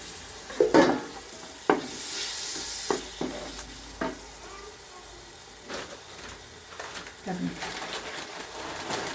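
Country tomatoes fry in a pan for biryani masala, sizzling under intermittent clatters and scrapes of stirring, close by, while a person talks over the cooking.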